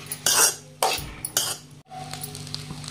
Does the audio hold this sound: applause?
no